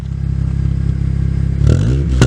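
2005 Honda Accord exhaust fitted with a cheap aftermarket short ram intake, a close, steady pulsing idle that swells into a brief rev near the end.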